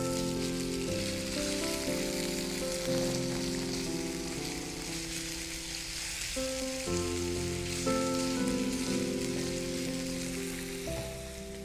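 Fish shallow frying in a pan, a steady bright sizzle with a continuous crackle that holds at an even level throughout, close up and with no one talking.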